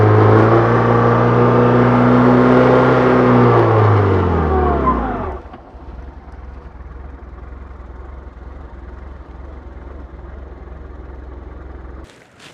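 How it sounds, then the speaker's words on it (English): Motorcycle burnout with the front brake held against the throttle: a loud, strained engine roar holds for about five seconds, then cuts off sharply, leaving a low steady idle rumble. "and that's doing a burnout"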